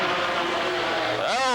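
A race car engine at full throttle on the straightaway during a 1997 race, a loud sustained whine that suddenly rises in pitch near the end, with some talk mixed in.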